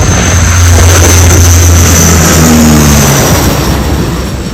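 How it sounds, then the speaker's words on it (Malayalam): An Air Force aircraft flies overhead on approach to land at an airport runway, a loud, continuous engine roar with a slowly shifting low drone that fills the whole stretch and has no talk. "എയർഫോഴ്സിൻ്റെ ഒരു എയർക്രാഫ്റ്റാണ് ലാൻഡ് ചെയ്യാനായിട്ട് പോകുന്നത്."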